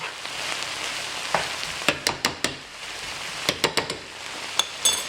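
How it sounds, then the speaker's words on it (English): Chopped vegetables saute in a pan with a steady, soft sizzle, while a utensil stirring and scraping the pan adds a series of sharp clicks and taps. "You continue to stir these veggies. As you see the bottom of the pan is starting to brown, that means they're starting to saute."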